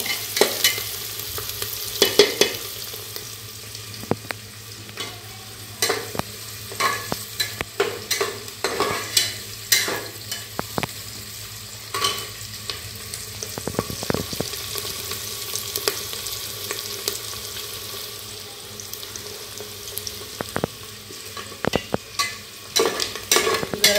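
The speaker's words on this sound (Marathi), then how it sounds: "आणि कांदा टाकायचा नंतर मग टोमॅटो टाकायचा. लालसर होऊस तर भाजायची जरा." Chopped onions fry in hot oil for biryani, a constant sizzle under repeated scraping and clattering strokes of a stirring spoon against the pan, close and steady for the whole stretch.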